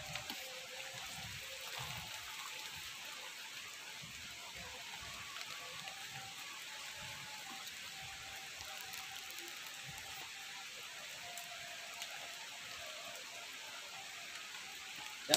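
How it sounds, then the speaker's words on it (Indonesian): Steady rain falls across a porang plantation, a continuous soft hiss of drops with faint scattered patter, even and unbroken throughout. "Situasi hujan masih terus nih"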